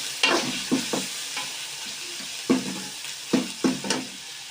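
Mutton liver frying with red chillies and turmeric, a steady hiss of oil under several distinct spoon strokes scraping and knocking against the pan, close and clear.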